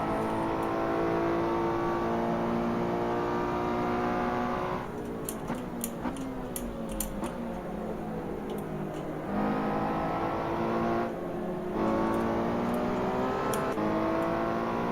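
A Ferrari race car engine in a Ferrari Challenge racing game drones loudly and continuously, its pitch climbing through gear changes, with brief mechanical clicks and interruptions partway through.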